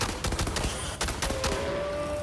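Rapid bursts of gunfire from a Red Faction: Armageddon firefight, dense overlapping shots and automatic fire crackling loudly throughout, with a faint tonal whine entering near the end.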